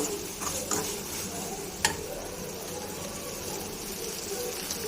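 Ginger and garlic being sautéed with turmeric powder in a pan for a prawn gravy, heard as a soft, steady sizzle with faint stirring clicks and one sharp utensil tap.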